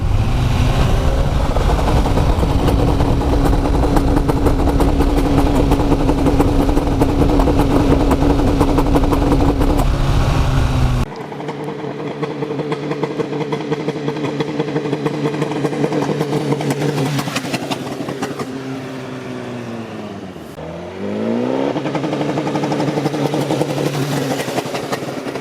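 A Honda CBR 1000RR sportbike on a stock exhaust held at a steady high rev on launch control, a loud sustained buzzing drone that drops to a lower rumbling idle, then blips up with a sharp rising rev.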